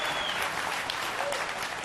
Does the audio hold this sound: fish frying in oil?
no